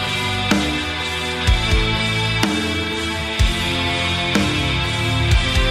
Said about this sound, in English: So the backing track sounds like this.